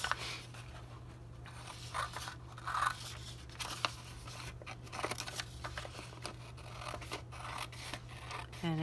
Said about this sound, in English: Should have used my bigger scissors, but that's all right.